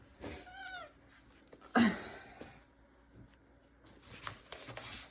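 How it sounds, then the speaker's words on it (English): A cat meows a few times up close, including one louder, strained yowl, with light shuffling and rustling around it. "I got to move the cat again."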